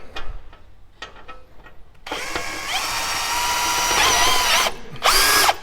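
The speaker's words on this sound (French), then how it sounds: "Et vous voyez, on peut visser" A power drill drives an EJOT screw through a panel into its frame: a few light clicks, then a loud, sustained whirring drive that rises in pitch, pauses briefly and whines again in a short final burst.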